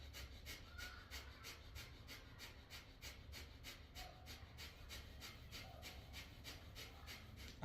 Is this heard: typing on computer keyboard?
no